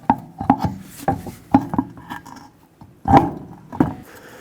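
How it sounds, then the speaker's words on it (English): A car wheel on a 2013-2020 Nissan Pathfinder is lifted back onto the hub, giving a series of close knocks, clunks and scraping rubs with a few heavier thuds, no talking. "There we go, let's put the wheel on."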